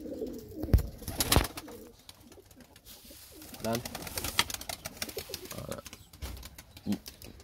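Pigeons coo in low, throaty repeated calls amid wing flutters and loose handling noise, with someone speaking intermittently over them.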